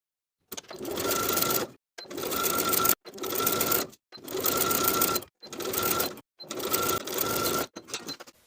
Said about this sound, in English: Sew the sleeve in place with a 3/8 inch seam allowance